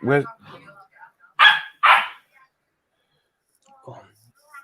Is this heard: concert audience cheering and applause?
no